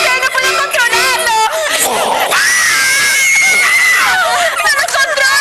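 A woman's high, piercing scream rises and holds for several seconds, with other frantic voices and shouting overlapping around it in a loud, chaotic scene.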